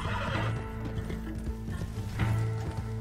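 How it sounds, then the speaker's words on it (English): Horses neigh and hooves clatter in the Red Dead video game, with a loud whinny near the start and another toward the end over a constant low game hum. "horses!"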